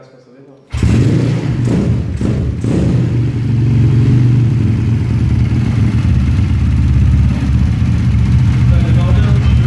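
A 201cc SP3 engine kicks into life abruptly, then settles into a loud, steady, rumbling idle with a few early clattery thumps as it catches.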